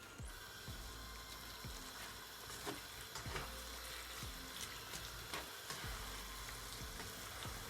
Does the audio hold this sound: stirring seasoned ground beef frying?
yes